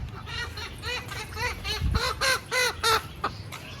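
Pet roosters and hens make a series of short, harmonic clucking calls, close and fairly loud, growing more insistent toward the end, with faint background voices.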